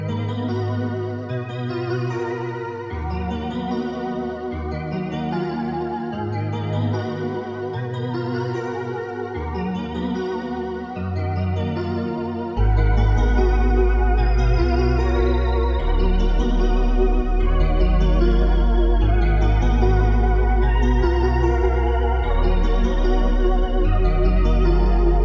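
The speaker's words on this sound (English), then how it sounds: "when you combine the melody and the sine bass, it sounds like this." A shimmering, chorus-washed synth melody wobbles in an underwater, wavy way, and roughly halfway through a deep, heavy sine bass joins underneath, making the mix louder and fuller, with no voices.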